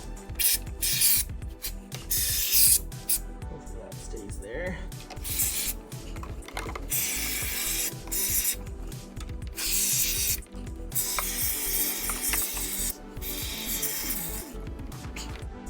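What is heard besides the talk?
spraying expanding foam from a can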